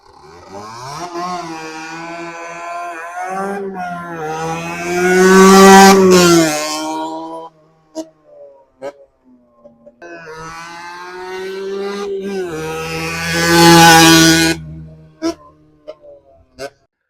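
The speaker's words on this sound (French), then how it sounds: "on va direct passer à l'essayage de la moto" A motorcycle on a quiet straight road during a test ride, its engine revving up in two long rising pulls, each climbing to a loud roar before easing off, with brief quieter idle between.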